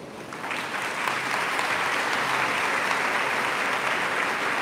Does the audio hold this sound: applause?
yes